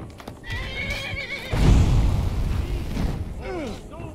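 A horse in the video game Skyrim whinnies several times with clip-clopping hooves underneath, close and fairly loud, with a burst of heavier rumbling in the middle.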